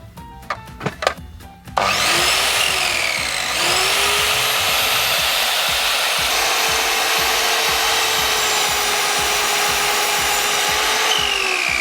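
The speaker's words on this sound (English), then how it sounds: "Let's go cut some more wood." A miter saw cuts wood during a van insulation build. A few close clicks and knocks come first, then a loud, steady, high whine runs unbroken to the end.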